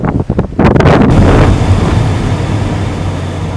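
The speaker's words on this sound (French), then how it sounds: "Ça m'abrite du vent en fait parce qu'il fait super froid avec le vent" Strong wind gusts buffet the microphone outdoors on a freezing day near houses, loud and roaring, with sharp bursts at the start settling into a continuous rumble.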